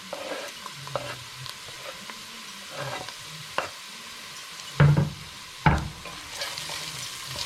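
Chopped celery and carrot sauté in a pan with a low, patchy sizzle broken by scattered scrapes and stirring clatters, and two loud knocks near the end.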